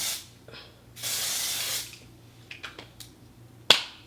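Makeup setting spray hisses onto a face in one strong burst, followed by a few short, softer spritzes and a sharp click near the end, close and quiet with no talking.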